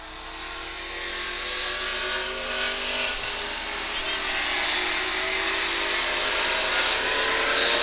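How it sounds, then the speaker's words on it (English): Racing trucks from the United States Super Truck Series roar around a track during a heat race, a steady engine drone that swells slightly toward the end, with an announcer talking over it. "Brendan Willard going to take the United States Super Truck Series race, heat race number 2"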